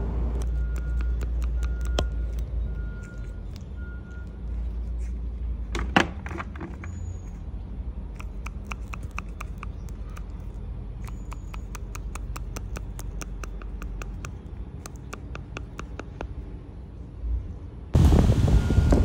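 Sharp, irregular knocks and clicks from a worn rear stabilizer link on a Mitsubishi Lancer, scattered over a low steady background hum, ending in a louder burst of noise.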